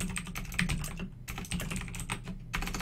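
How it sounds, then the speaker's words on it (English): Fast, continuous clatter of keys being typed on a computer keyboard, close and steady with brief pauses between bursts. "Whoa, good typing hands, Adam."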